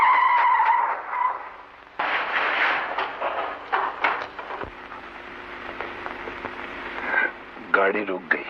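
A car skids to a stop in a 1956 Hindi crime film, a harsh tire squeal and engine noise under dialogue and background music, fairly loud and close.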